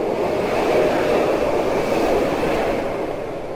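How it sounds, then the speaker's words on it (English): A train in the video game Between the Rooms, a steady loud rumbling roar holding constant throughout with no talk. "What happens if I just walk into the train?"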